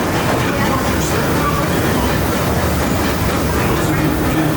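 Disneyland Railroad train rolling into New Orleans Square station, a loud, steady rumble of wheels and rail clatter heard from onboard, continuous throughout without a break.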